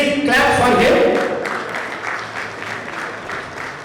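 An audience at a JNTU Hyderabad alumni anniversary celebration in New Jersey breaks into loud applause, a dense burst of clapping that swells quickly and then gradually thins and fades.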